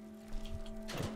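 A metal filing cabinet in Fallout 3 slides open with a short scraping rattle, ending in a brief louder clunk over a steady low electrical hum.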